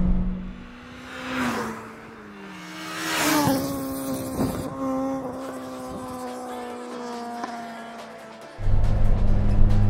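A naturally aspirated Honda Integra Type-R DC2 engine climbs through the revs on the move, its tone rising and then holding steady and loud, with a burst of wind noise at the end.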